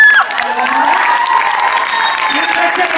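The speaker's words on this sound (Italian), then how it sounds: "Io volevo, Marco, fare un applauso ai pazzi, alle pazze che hanno preso un aereo per venire apposta dall'Italia" An audience at Casa Italia in London applauds continuously for a concert act, with cheering mixed into dense clapping and a voice speaking over it.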